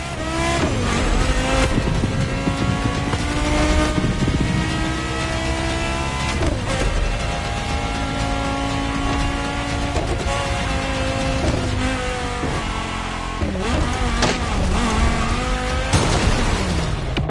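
Porsche engine in The Crew Motorfest, loud and close, with steady revving, upshifts and accelerating pulls, brief tire squeal and skids between gear changes, no talking.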